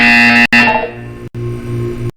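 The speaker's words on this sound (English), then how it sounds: "You will hear a buzzer." In the video game Portal 2, a loud electronic buzzer tone sounds in sustained stretches, cut by a few brief gaps, with harmonic overtones and no talking.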